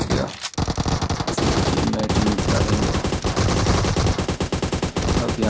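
Rapid automatic fire from a Groza rifle in the mobile battle royale game PUBG Mobile, in gun game mode, rattles loudly and almost continuously, with dense overlapping shots and no talking.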